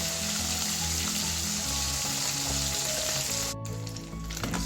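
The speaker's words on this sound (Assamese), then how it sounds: "মাছখিনি ৰঙচুৱাকৈ মই ভালকৈ ফ্ৰাই কৰি লওঁ" Fish frying hard on full high heat for a traditional Assamese fish curry, a steady loud sizzle running throughout with faint clinks near the end.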